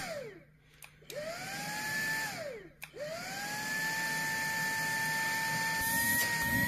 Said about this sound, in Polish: Ona na eko mocniej ciągnie niż mój poprzedni pionowy odkurzacz w trybie max.